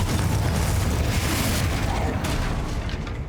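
Confringo blasting spell in Hogwarts Legacy, a dense continuous roar of booming blasts and explosions, loud throughout, with a character's voice over the noise.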